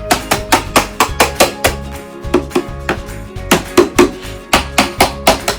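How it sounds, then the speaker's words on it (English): Toy hammer from a workshop tool set striking repeatedly in a steady, fast rhythm of sharp, loud knocks, about a dozen hits in quick succession. "it's time to get hammer"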